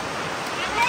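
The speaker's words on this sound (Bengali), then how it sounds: "বাইরে মুষলধারে বৃষ্টি পড়ছে" Heavy rain pours down outside a house, a dense, loud, continuous rushing hiss heard close by for a brief moment.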